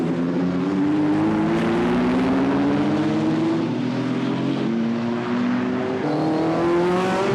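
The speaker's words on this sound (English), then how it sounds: "a total of some 23 cars coming out for this practice in dry conditions" Racing cars in a British circuit practice session on a dry track, including a big Aston Martin DB4 V8 and a Jaguar, roar past. Loud engine notes rise and fall continuously as cars accelerate through, with no speech.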